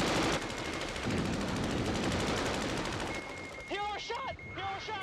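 Cannon fire from a MiG fighter jet in the aerial dogfight film Top Gun, a loud continuous rattling burst over roaring engine noise, then excited voices break in over the din.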